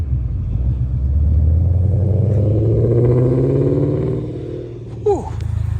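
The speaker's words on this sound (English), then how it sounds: "this car sounds so good" Deep, throaty engine rumble from a car idling and revving nearby, swelling loudly then easing off, with a brief clunk near the end.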